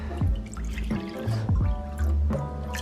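Water pours from a Brita filter pitcher into a Breville BBM800XL bread maker pan, a close gurgling stream with repeated glugs and drips in uneven bursts; no talking.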